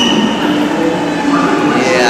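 A Lucknow Metro train rolls into the station, a steady broad rumble with faint wheel hum and a thin high squeal, continuous and fairly loud throughout, with voices murmuring in the background.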